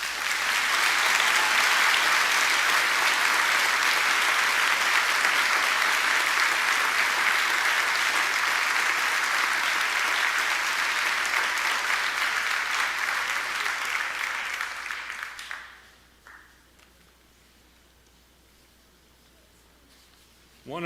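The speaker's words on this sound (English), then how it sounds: "let's give them a round of applause" Audience at a fire recruit class graduation applauds in a loud, dense wave of clapping that holds for about fifteen seconds, then fades out quickly into near quiet.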